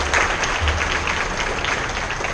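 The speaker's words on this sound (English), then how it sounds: "Let's give them a big round of applause" Audience applause at a hometown heroes veterans remembrance event, a continuous, even patter of clapping from a crowd with no talk over it.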